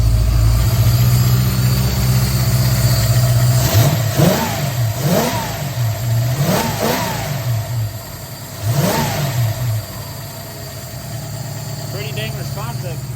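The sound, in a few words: 1966 Ford Mustang engine started and revving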